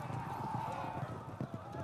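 Hooves of cavalry horses beating in a quick, uneven clip-clop rhythm, fairly faint and set under a steady low hum.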